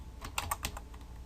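Keys tapped on a computer keyboard, a quick run of several close, crisp clicks in an uneven rhythm with no voice.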